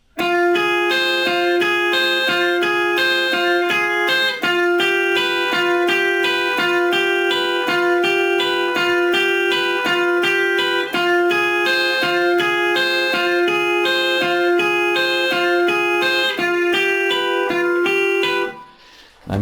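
An electric guitar plays an arpeggiated riff over a chord sequence, ringing clean, repetitive notes close and steady for nearly twenty seconds before stopping abruptly.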